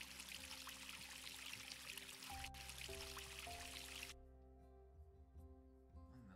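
Water streams steadily from a watering can in a VR farming game, a continuous close pour that stops abruptly about two-thirds through, leaving soft game music tones ringing on.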